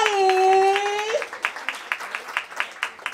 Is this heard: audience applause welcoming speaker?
yes